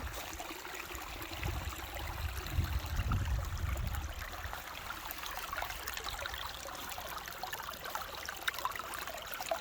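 A spring-fed brook trickles and burbles steadily through volcanic hiking country at Selsvellir on Iceland's Reykjanes peninsula. The soft, continuous water sound is faint and unbroken, with no voices.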